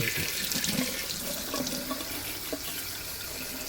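Tap water running into a sink, steady splashing stream with slight fluctuations, close and continuous throughout, no voices.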